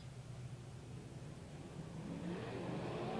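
Dirt-track race cars at Watsonville Speedway drag race down the front straightaway, their engines droning and building louder as they accelerate toward and past the listener over a few seconds, with no voices.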